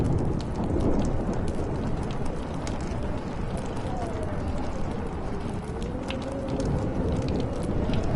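Heavy rain pours steadily through a thunderstorm in the Life is Strange video game. It is a dense, unbroken wash with deep rumbling underneath and faint tonal sounds drifting over it.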